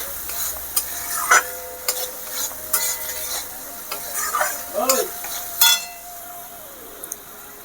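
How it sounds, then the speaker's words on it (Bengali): Spice masala for a fish poppy-seed curry sizzles in a pan as a utensil stirs it, with repeated scraping strokes and clinks over a continuous frying hiss. "আর ভালো করে নাড়াচাড়া করতে হবে যাতে তলাতে লেগে না যায়, পুড়ে না যায় মশলা"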